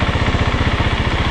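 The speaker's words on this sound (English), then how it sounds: "I feel the engine is struggling but not stalling." A 2026 KTM 690 Enduro R single-cylinder motorcycle engine lugging at low RPM in second gear off-road, crawling slowly with a steady, rapid, pulsing thump, close and fairly loud with no talking.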